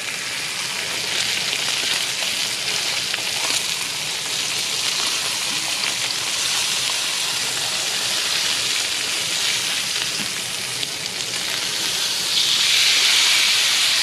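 Meat searing in a hot pan, giving a steady, loud broadband hiss and crackle that runs without a break and swells slightly near the end, with no talking.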